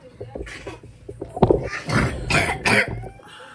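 Several rough, raspy coughs from animals, close by, coming in quick bursts with brief pauses between them.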